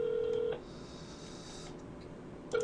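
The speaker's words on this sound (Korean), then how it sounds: "청정 선수 왜 전화를 안 받냐?" A phone line rings out unanswered, a steady electronic ring tone sounding, cutting off, then starting again after a short pause.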